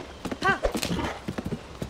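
Horse galloping in Zelda: Tears of the Kingdom, quick rhythmic hoof clip-clops with a brief whinny, close and clear, mixed with game sound and a voice.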